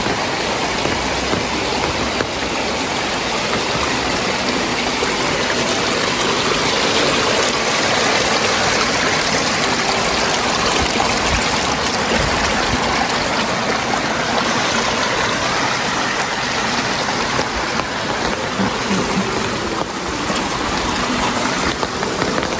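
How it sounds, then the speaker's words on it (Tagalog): A busy water source on farmland in Sta. Elena, Camarines Norte runs steadily, a continuous rushing flow that stays dense and even throughout with no voices. "As you can see naman, sobrang active ng source of water."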